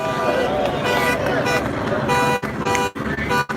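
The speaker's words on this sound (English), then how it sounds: "And this car is honking." A car horn honks amid busy street noise at a nighttime George Floyd protest in Los Angeles, the toot sounding under continuous crowd and traffic din with voices around.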